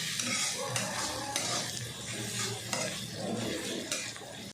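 Masala of onion, ginger and garlic sizzles steadily in a pan, with repeated stirring scrapes and occasional utensil clinks close up throughout, no talk.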